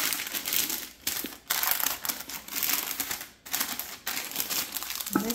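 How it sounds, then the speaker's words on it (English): Parchment paper crinkling and crumpling as it is pressed into a bread pan for sandwich bread, loud close rustling in several bursts separated by brief pauses, no voices. "I like to line it with parchment."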